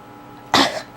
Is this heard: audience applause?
no